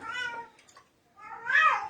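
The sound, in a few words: cat meowing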